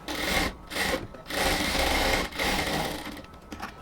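A sewing machine runs a double line of stitching down a blouse from top to bottom, the motor whirring in steady bursts with short pauses between runs, close and fairly loud with no one speaking.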